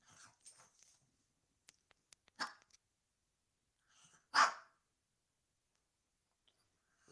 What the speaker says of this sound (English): Do you hear Lolly barking?